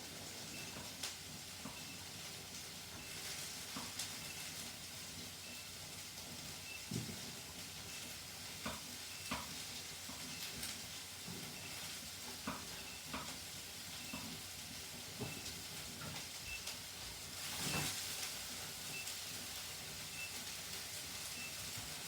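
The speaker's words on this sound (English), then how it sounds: "And just keep stirring as you go along, till the onions and the peppers" Onions and peppers sizzle in a frying pan, a quiet, steady hiss running throughout, dotted with soft scrapes and taps from stirring.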